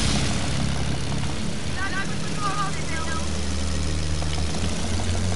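A propeller airplane engine drones steadily in a World War II video game, its constant hum filling the scene under players' voices.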